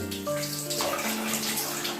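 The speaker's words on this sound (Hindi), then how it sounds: "देखिए पानी जो है अपने आप उस चैम्बर में चला गया और वहाँ से उसका ओवरफ्लो जो है वो शुरू हो गया।" Water flows and overflows through a homemade top-on aquarium filter chamber, giving a continuous close splashing and trickling rush with a few tonal gurgles, with no voices.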